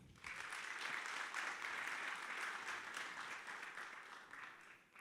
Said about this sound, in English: Let's give a round of applause for the President for Middle East and Africa at HVS, Hala Matar Choufany.